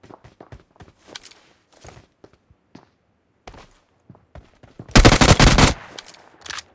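Video-game gunfire bursts loud for under a second as a rapid automatic volley, set among scattered soft footsteps and small clicks, with no talking.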